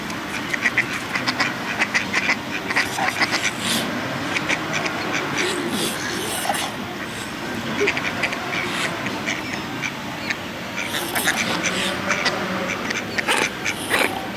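A crowd of ducks being fed bread quacks in a dense, continuous chorus close by, with overlapping calls and splashing at the waterside alongside swans and a goose.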